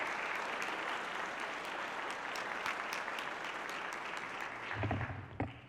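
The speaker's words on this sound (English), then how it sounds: "please help me welcome her to the podium with a big round of applause." An awards-ceremony audience gives a host a warm round of applause, a sustained, fairly faint rush of many clapping hands that thins toward the end as a low sound comes in.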